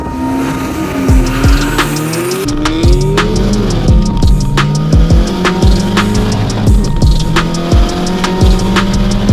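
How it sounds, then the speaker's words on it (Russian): An old Moskvich car races a BMW M4 on the road: loud, close engine roar with repeated gear-change dips and rising revs, plus sharp recurring knocks or thumps throughout. "Дядя Вова на москвиче дал угля"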